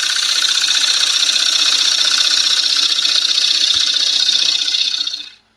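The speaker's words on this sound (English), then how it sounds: "I'm using my 1/4 inch swept back gouge." A 1/4 inch swept back gouge cuts spinning wood on a lathe, giving a steady, loud, hissing scrape that holds evenly for several seconds before trailing off abruptly.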